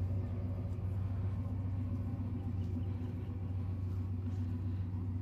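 Exhaust of a 1991 Chevy bubble car fitted with red bricks, giving a steady, deep, low idle rumble heard from a moderate distance, with no talking.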